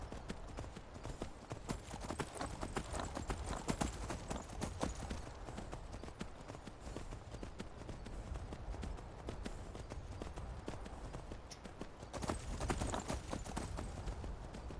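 Horse hooves clip-clopping steadily at a gallop in Skyrim while riding back toward Whiterun, a continuous close rhythmic beat over game ambience, with no talk.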